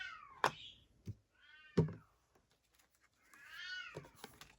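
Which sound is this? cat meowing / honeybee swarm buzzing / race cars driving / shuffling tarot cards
cat meowing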